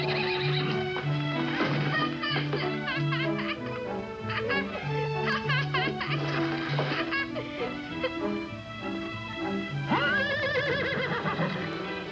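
A skittish horse neighs and whinnies repeatedly, loud and close, with a long shrill whinny near the end and faint clip-clop of hooves between calls.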